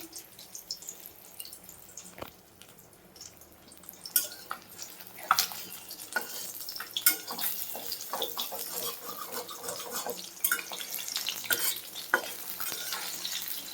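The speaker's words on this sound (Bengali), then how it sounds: "মাছ ভাজা হচ্ছে" Fish frying in a pan, a close, crackling sizzle with irregular pops and spits that grows busier as it goes on, under some faint background noise.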